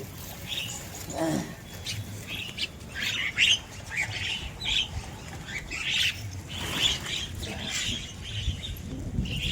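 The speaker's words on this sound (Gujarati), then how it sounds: "કાગડા કેટલા કાગડા" Crows caw in scattered, repeated squawks outdoors where the birds are fed gathiya snacks, with some wing flapping and faint background noise.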